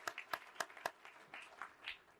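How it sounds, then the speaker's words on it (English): Scattered applause at a Black Achievers banquet ceremony, a handful of sharp, distinct claps at first, then softer sparse clapping, fairly faint and brief. "Come on, let's give him a round of applause."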